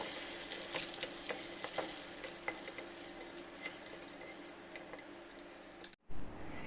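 Tamarind sautéing in coconut oil with shallots and chillies in a pan, giving a steady, close crackling sizzle with sharp pops and stirring scrapes. It cuts off abruptly near the end, and a short burst of sizzle follows.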